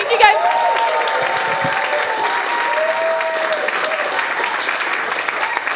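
A comedy club audience applauds comedian Jess Kapinaris after her set: steady, dense clapping that holds for several seconds, with faint tonal sounds running beneath it.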